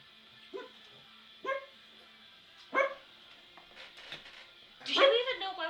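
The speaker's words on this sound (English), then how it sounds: "Do you even know why we're barking?" A dog barks in several short, separate bursts of about one per second, closing with a louder, more ragged outburst, while an occasional voice speaks nearby.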